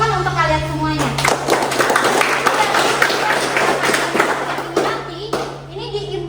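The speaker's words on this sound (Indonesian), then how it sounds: "tepuk tangan untuk kalian semuanya" Students in a classroom break into applause, a dense burst of clapping lasting several seconds and then fading, with a teacher talking before and after.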